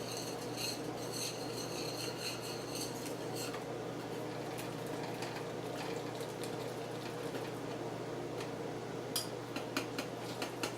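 A whisk works through a melting cheese sauce for garlic shrimp Alfredo in a pan, giving faint, soft stirring swishes with light metallic clicks and scrapes against the pan.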